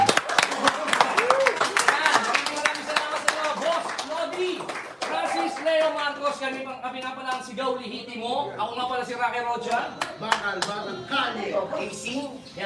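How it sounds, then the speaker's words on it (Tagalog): Audience clapping fills the first few seconds at a rap battle prize-giving, dense and close, then thins as a voice speaks over the remaining claps and crowd noise. "Palakpak mo! Palakpak!"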